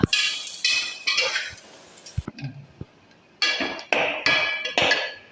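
A metal spoon scrapes and clinks against a pan while scooping out fried coconut and onion, in short bursts of scraping separated by a quiet pause and a few light taps.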